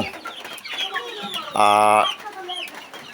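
Desi chickens about 70 days old and weighing around 800 grams cluck softly in a coop, then one hen lets out a loud, drawn-out squawk midway before the low clucking resumes.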